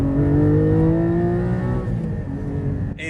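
Porsche 718 GT4 flat-six engine hums and revs while driving, with a strong, steady engine drone close up throughout and a slight dip in pitch midway.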